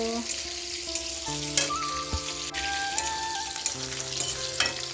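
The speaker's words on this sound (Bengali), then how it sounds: "পটলটা ভেজে নিচ্ছি" Pointed gourd (potol) fries in oil in a pan in a home kitchen, giving a steady sizzle with occasional clinks and scrapes, while a tonal hum runs underneath and no one speaks.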